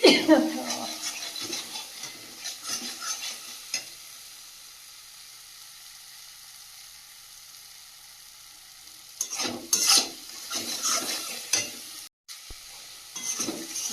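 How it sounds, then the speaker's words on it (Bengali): Masala spice paste sizzles in oil, stirred with scraping strokes at the start, then a quieter stretch of low frying before brisk clattering stirs return near the end. "মশলাটা বেশ ভালো করে ভেজে নিয়েছি আর তেলটাও ছেড়ে দিয়েছে"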